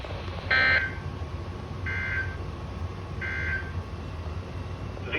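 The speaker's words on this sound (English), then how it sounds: "This has been a test of the NOAA weather radio warning alarm device" A NOAA weather radio warning alarm device gives three short, identical electronic tone bursts at an even pace, about one every one and a half seconds, over a low steady background hum.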